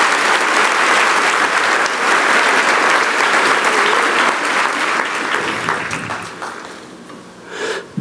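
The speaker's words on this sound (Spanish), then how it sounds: "dele un aplauso grande a su Dios poderoso" Loud, sustained applause from a large church congregation, holding steady before gradually fading away at the end.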